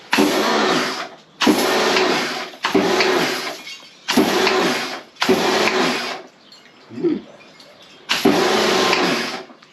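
A Karcher K4 Universal electric pressure washer is switched on for its first use and runs in short bursts. Each loud, harsh motor-and-spray rush lasts about a second, with brief pauses between them, and about six bursts come one after another.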